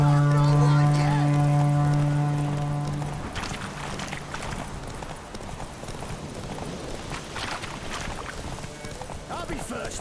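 A mare gallops in a horse race in The Witcher 3, with steady clip-clopping hoofbeats after a loud opening tone, continuing under faint voices or game noise.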